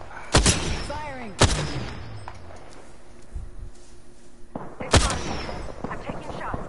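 Gunfire in an online shooter video game cracks out in a few loud, sharp shots, two close together early and another later, with quieter rumbling and distant activity between them and no talk.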